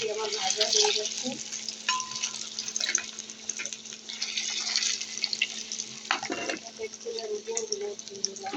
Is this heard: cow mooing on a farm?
no